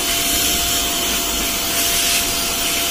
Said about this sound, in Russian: Никому никогда не приходило в голову пылесосить валики.